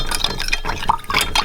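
A spoon stirring honey into water in a glass or bowl for bread dough, giving a short run of liquid swishing and light clinking.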